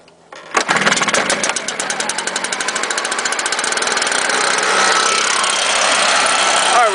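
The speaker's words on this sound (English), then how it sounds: "Alright, we have a high idle." A STIHL chainsaw engine catches after a cold start and settles into a loud, rapid, buzzing high idle, close by and steady to the end.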